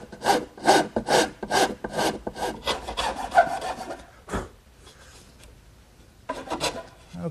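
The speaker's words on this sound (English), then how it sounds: "So I'm going to even those out using my rasp." Hand rasp filing wood to level the side of a Shaker wash stand against its front at the dovetails, making close, steady back-and-forth rasping strokes, then a pause before a few more strokes.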